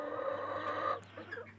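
Domestic chickens clucking in a farmyard, a dense layered run of close clucks and calls for about a second before tapering into a few scattered softer clucks.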